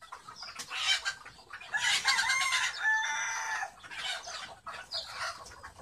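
Chickens on a poultry farm cluck and crow loudly and close by, several bursts of calls including a drawn-out rooster crow, with brief quiet gaps between them.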